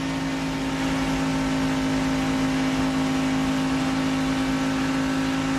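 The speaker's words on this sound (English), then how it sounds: "you can hear that engine laying down right now" Onboard a race truck at the 2023 Henry Ford Health 200, a failing engine gives off a steady, flat droning hum that stays constant in level throughout, with no talk.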